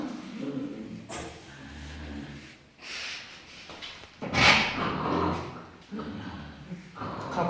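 A dog growls and gives short barks inside a house during a comedy skit, with a louder burst midway, mixed with people talking throughout.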